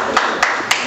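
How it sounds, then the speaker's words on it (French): At a church committee election meeting, people clap for a newly elected pastor: three separate sharp claps, spaced evenly and heard close and alone over a steady room background. "On peut aussi applaudir pour le pasteur Lucien"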